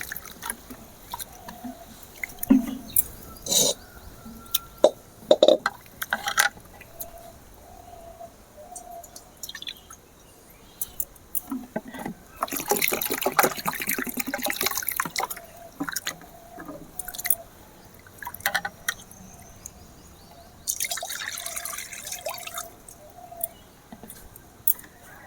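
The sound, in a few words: washing sago pearls in water in a bowl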